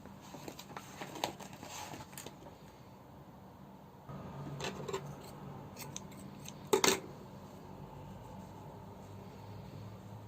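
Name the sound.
scissors cutting crochet yarn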